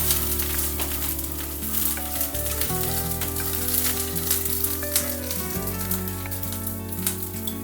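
Green chilies roast with peanuts in a hot pan, sizzling and crackling continuously at close range, with a steady frying hiss and scattered pops throughout.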